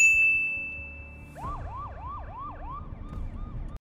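A siren starts up partway through, wailing in a rapid repeating up-and-down pattern at moderate distance, preceded by a high steady tone.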